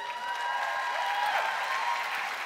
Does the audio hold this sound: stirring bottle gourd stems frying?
no